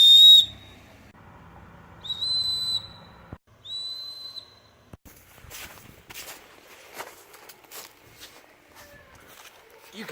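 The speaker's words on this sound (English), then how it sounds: "there is a whistle built into this backpack that blows at a mind-blowing 100 and something decibels" A loud, shrill emergency whistle built into a backpack gives one sharp blast, then two more short blasts after a pause, followed by handling and rustling noises.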